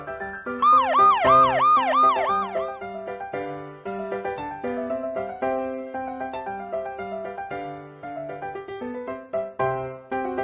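A police car siren wails in rapid rising and falling sweeps for a couple of seconds, then gives way to stepped electronic tones and melodic honks, loud and close, with no speech.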